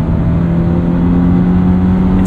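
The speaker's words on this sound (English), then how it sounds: "it still allows you to hear engine noise at high revs" A 2022 Subaru BRZ engine hums steadily through an aftermarket exhaust, a loud continuous drone that holds a constant low tone for about two seconds, with no voices.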